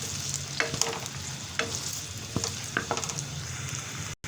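Potatoes and cauliflower for aloo gobhi roasting in a pot, with a steady close sizzle and repeated scraping strokes of a spoon stirring through the pieces, no talking.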